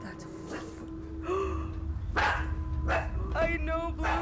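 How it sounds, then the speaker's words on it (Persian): A dog barks outdoors in several sharp, moderately distant bursts spread across the clip, with a person's voice heard nearby. "اونجوری که سگه داره پارس میکنه معلومه قشنگ یه چیزی اونجا هست"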